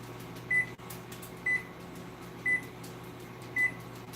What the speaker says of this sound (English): We don't know how to work the microwave, guys.